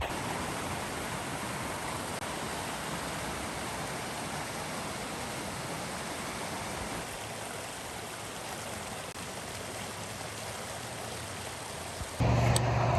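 A small stream of water flows beside a little concrete bridge, a steady, soft wash of trickling noise that continues unbroken, with a brief louder knock right at the end.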